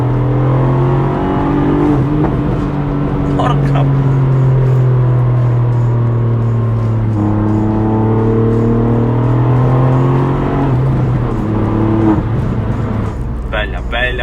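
A Ford Fiesta ST Mk8's three-cylinder EcoBoost turbo engine, tuned to 250 hp, revs hard and loud through rising and falling gear pulls, with someone talking briefly over it.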